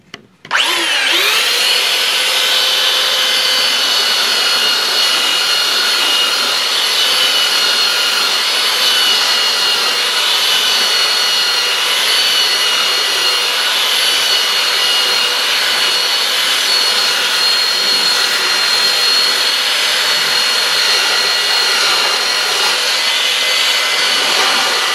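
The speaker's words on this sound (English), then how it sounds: "I'm going to put my glasses on here and we'll start sanding." Continuous loud power sanding of a carved redwood stop sign, a steady high whirring hiss of the sander against the wood that runs unbroken from start to finish with no talking.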